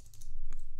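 A short burst of computer keyboard typing as a value is entered, a few crisp key clicks close to the mic with no voice.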